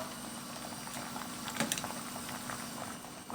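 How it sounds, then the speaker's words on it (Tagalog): Rice boiling in a pot in a home kitchen in Kuwait, a steady close bubbling and simmering hiss with soft irregular pops throughout, no talking. "Ayan, malapit-lapit na po kumulo-kulo ng kanin. Bantayan ko po baka umapaw."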